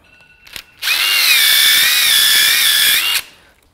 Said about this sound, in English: Next thing we'll take is just a little wire brush here.